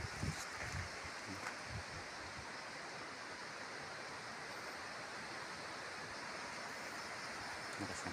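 Strong wind blows at the foot of Mayon volcano as a steady, loud, broadband roar that buffets the microphone, with faint low thumps early on.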